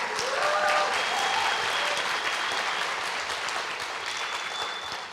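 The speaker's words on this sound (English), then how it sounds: "get them to clap" Dense, steady audience applause fills the room at a celebration closing a talk on India's queer futures, close and continuous for several seconds with no voices over it.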